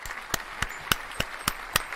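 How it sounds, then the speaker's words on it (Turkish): A television studio audience claps together in a steady rhythm, sharp evenly spaced claps about four per second over a soft crowd murmur. "Alkış."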